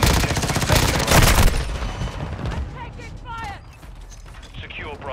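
Rapid gunfire in a video game battle, loud bursts of automatic shots at first, then fading into scattered mechanical clicks and distant effects while game voices speak.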